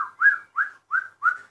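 A person whistles in imitation of a songbird, producing four clear rising notes evenly spaced in a steady rhythm, close and moderately loud with no talking.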